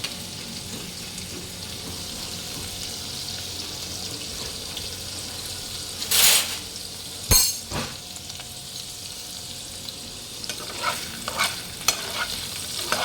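Paneer pieces frying slowly in a pan for palak paneer, a constant low sizzle broken by a few sharp stirring scrapes and clatters in the second half, with no talk.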